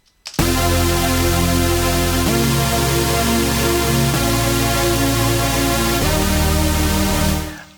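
Fat, detuned supersaw chords from the Spire synthesizer in an EDM production play as sustained, dense chords that change about every two seconds, loud and continuous with no voice, ending with a short fade.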